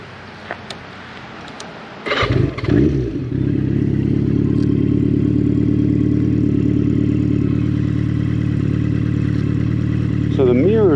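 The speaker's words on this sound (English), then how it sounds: "take you guys out for a ride around town, let you hear the exhaust" A Yamaha Maxim X motorcycle on a ride around town, its exhaust starting with a sharp burst then settling into a steady, loud low rumble that holds throughout, with a brief rising rev near the end.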